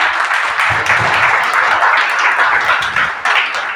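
A gathering audience claps together after being called on to applaud, a dense, close burst of hand-clapping that stays steady and loud for a few seconds.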